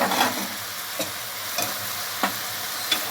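Mutton dry curry with tomatoes and cucumber being stirred in a pan over steady frying hiss, with a few distinct spoon scrapes spaced about half a second to a second apart.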